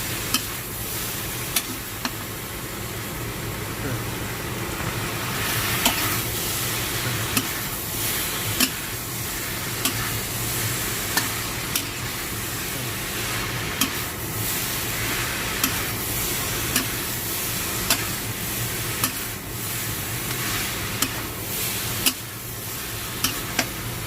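Vegetarian pumpkin with basil leaves stir-fries in a hot pan, a steady loud sizzle broken by regular sharp scrapes of the spatula.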